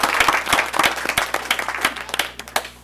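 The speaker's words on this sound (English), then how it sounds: "Let's give her a round of applause." A school board meeting audience applauds a student leader with a short burst of clapping, loud and close, steady through the moment.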